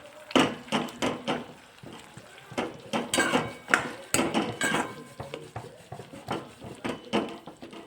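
Spoon scraping and clanking against a pot while bean and potato curry is stirred, a run of close irregular metallic knocks and scrapes.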